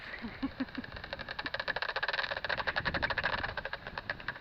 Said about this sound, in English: The rapid fire echolocating noise buzzing out means if they're onto an insect.